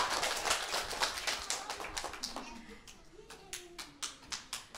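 Kindergarten children at a school holiday event clap their hands in a loose, uneven series of sharp claps, fairly quiet, with faint voices in the background.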